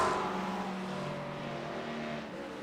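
McLaren and Porsche race cars in the iRacing video game at Road America give off a steady engine drone with a tonal whine that slowly falls in pitch, with no voices over it.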